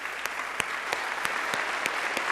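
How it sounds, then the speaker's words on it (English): Audience applauding newly inducted shuttle astronauts at a Hall of Fame induction ceremony, a steady moderate wash of many hands clapping throughout with occasional sharper claps standing out. "Can we give them a round of applause, please?"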